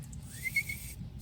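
A person tries to whistle and produces one short, thin note that rises slightly in pitch partway through, over faint background noise.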